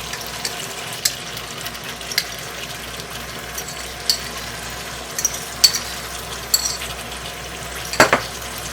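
Yogurt being stirred into a frying spice masala for chicken kofta curry, giving a steady soft sizzle with repeated faint scraping and stirring clicks close by, no talking.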